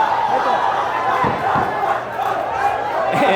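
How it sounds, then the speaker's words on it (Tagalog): A boxing crowd at a live fight cheering and shouting in a continuous dense roar, with ringside commentary running beneath the noise. "And the crowd really into this kind of thing."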